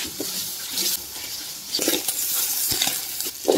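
Garlic and onion sautéing in hot cooking oil in a pan: a steady bright sizzle with intermittent scraping stirs and soft clatter, close and continuous throughout.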